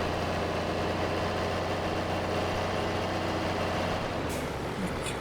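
A John Deere tractor engine idles in the video game Farming Simulator 22, a steady, even low rumble holding constant throughout without pauses or voices.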